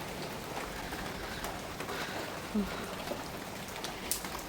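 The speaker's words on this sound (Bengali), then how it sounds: "সকাল সকালে বৃষ্টি, শুধু সকাল না, গতকাল থেকে বৃষ্টি।" Rain patters steadily in the background, soft and constant, with a faint bird coo and occasional distant knocks.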